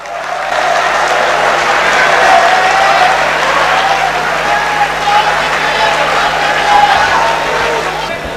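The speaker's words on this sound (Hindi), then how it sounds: "मैं चाहूँगा कि भरपूर तालियों में इस्तकबाल कीजिए" Audience at a mushaira poetry gathering applauding to welcome a poet, a dense, loud wash of clapping that holds steady for the whole stretch with no individual claps standing out.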